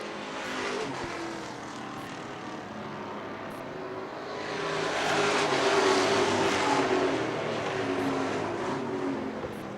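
Street stock race cars roar around a short oval track in a steady, dense engine drone that swells louder midway as the pack passes close, with no voices over it.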